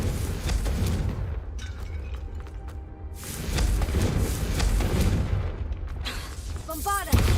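A Confringo fire-blast spell explodes in Hogwarts Legacy, with booming bursts over a steady roar of game sound and a sharp crack right at the end. Voices are heard within the mix.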